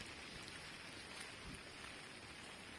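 Continuous heavy monsoon rain falls on a village in Uttarakhand, a steady, faint hiss of downpour at a distance with no pauses or voices.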